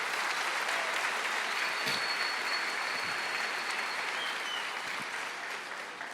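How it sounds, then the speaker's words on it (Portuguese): A church congregation claps during a worship service, and the applause forms a dense, even wash that holds loud and steady throughout without a break. "Você pode aplaudir a Jesus"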